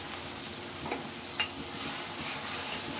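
Tempering spices fry in hot oil with a soft, continuous sizzle and faint crackling pops, heard fairly quietly with no talking.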